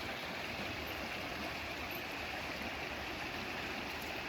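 River water flows in a steady, broadband rushing wash that holds constant for several seconds, close and fairly loud, with no voices over it.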